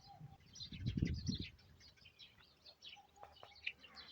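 Sparrows chirp in a village flower garden, with scattered faint tweets over quiet background and a few soft cooing calls.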